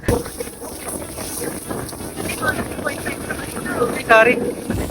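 Steady strong wind rushes across the microphone aboard a boat at sea off El Nido, Palawan, with water noise beneath and voices talking faintly in the background.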